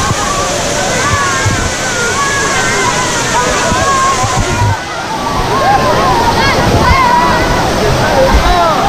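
Heavy water spray from a powerful fountain jet at the gardens of La Granja de San Ildefonso, Segovia, splashing and pattering continuously, loud and close like a downpour, with a hiss that barely lets up.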